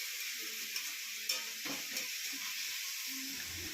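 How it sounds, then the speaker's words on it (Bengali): Potatoes and bitter gourd fry in a pan with a soft, even sizzle, accompanied by a few faint stirring scrapes and light clicks. "একদিকে বসিয়েছি আলু উচ্ছে ভাজা"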